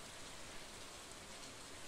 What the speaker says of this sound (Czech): Když to krásně prší, nebudu to muset zalejvat.